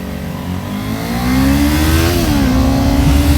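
A Kawasaki Ninja 400 motorcycle engine accelerates on the road, a loud, close mid-pitched drone whose pitch climbs steadily, dips briefly at a gear change, then holds and rises again over wind rush.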